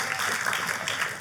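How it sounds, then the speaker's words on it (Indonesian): A church congregation claps for God, a short dense burst of many hands applauding together, moderately loud and close. "Tepuk tangannya pula yang paling meriah buat Tuhan kita"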